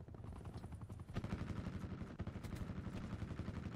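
Helicopter killstreak in the Black Ops 4 multiplayer video game: dense rapid rotor chopping mixed with bursts of automatic gunfire, a sharp loud onset partway through and continuous battle noise, with no talking.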